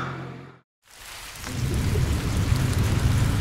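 Steady rain falling on a morning stop in Hope, British Columbia, during a motorcycle trip through western Canada, a dense even hiss that builds after a brief cut and stays loud to the end, with no voices.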